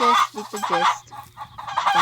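Short, repeated chicken clucks in quick bursts, close and clear, with a low steady hum underneath, a sound effect in a Roblox horror game.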